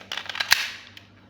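A few quick, sharp pops from a KSC Glock 26 airsoft pistol firing BBs close by, with an incomplete cycling fault, one louder crack standing out amid fainter clicks, no voices.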